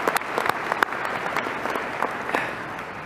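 An audience at the Eastmont Class of 2025 graduation ceremony fills the hall with dense, continuous applause that stays fairly even from start to finish, with no voices standing out above it.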